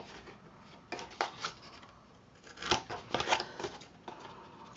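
Scissors snip a mitred corner on a chipboard craft folio, giving several short, crisp, close cuts in quick bursts with quiet pauses between them.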